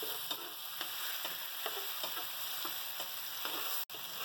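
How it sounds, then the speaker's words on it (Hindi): Masala with soy sauce and chilli sauce roasting in a pan for chicken chilli: a steady close sizzle with a regular rhythm of spoon-scraping strokes, about two each second. "अब इसके साथ हम अच्छे से मसाले को भून लेंगे"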